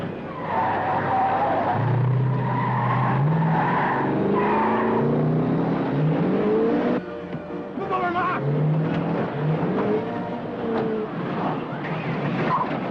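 A car tears away with loud, sustained tire skidding and squealing over a roaring engine, continuous for about thirteen seconds with a brief dip midway, with shouting voices mixed in.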